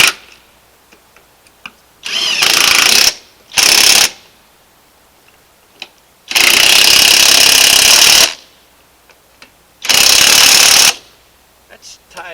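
Loud bursts from an impact wrench tightening electric trailer brake parts on a lowboy trailer, four rattling runs of about a second or two each with short quiet gaps between.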